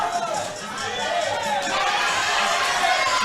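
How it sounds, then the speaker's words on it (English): Boxing crowd at the Chai vs. Jones Jr. fight on its feet screaming, a dense roar of shouting and cheering that swells steadily and stays loud throughout. "Oh my God, the crowd are on their feet, screaming at Nathan Jr. Jones."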